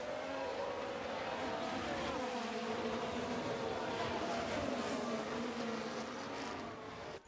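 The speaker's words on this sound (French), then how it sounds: "Réduisons un petit peu le son du moteur." Formula 1 car engines in the F1 Manager 2023 racing game make a loud, steady, high-pitched drone that runs unbroken for the whole stretch and cuts off abruptly at the end.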